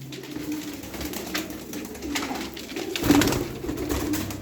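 Tumbler pigeons coo softly in a coop amid a low background murmur, with a slightly louder coo near the end.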